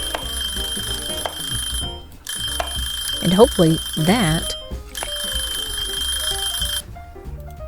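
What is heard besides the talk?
kitchen timer alarm ringing in Cooking Simulator video game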